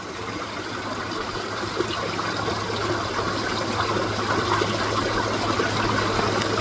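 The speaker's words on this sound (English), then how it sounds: "But you can hear all that water flowing behind the ice." Water flowing beneath the ice and snow of a frozen backyard pond at minus fourteen degrees, a steady soft rushing and trickling wash heard alone and continuous throughout.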